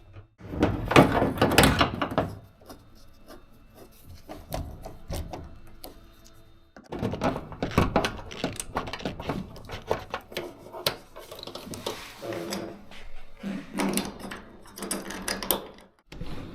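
A modified sliding door is refitted: repeated knocks, clunks and scraping of metal and panels at close range, in two bursts of handling separated by a brief pause, with no talking.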